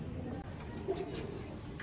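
Sialkoti pigeons on a rooftop coo softly, a faint low coo heard briefly against quiet background noise.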